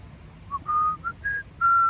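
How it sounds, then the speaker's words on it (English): A single person whistles a short, wavering tune of five breathy notes with small gaps between them, close to the microphone and otherwise quiet. "been having trouble whistling lately"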